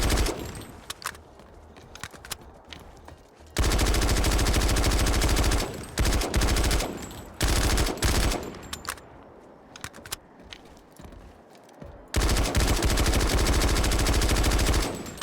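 Sustained full-auto gunfire in a shooting video game, loud bursts of rapid shots alternating with quieter gaps; the longest streams come in three heavy stretches, with no talking.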